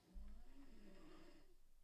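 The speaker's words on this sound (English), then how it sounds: "my friend is literally sleeping behind me and snoring" A sleeping person snores behind a seated speaker indoors, producing one faint, drawn-out rasping breath that swells and fades, distant and quiet.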